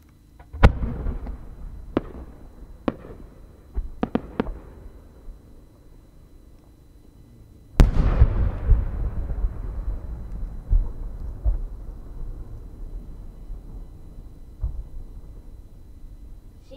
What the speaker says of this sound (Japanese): 花火の儚さと力強さを感じていただければと思います